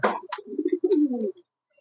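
A pair of king pigeons at a pigeon farm coo close by, several soft, low, rolling coos in a short burst before falling quiet.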